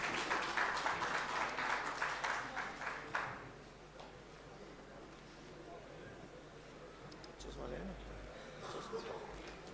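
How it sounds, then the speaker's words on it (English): An audience at a spectrum management conference gives a burst of applause that fades after about three seconds, followed by someone speaking at a podium. "A huge round of applause."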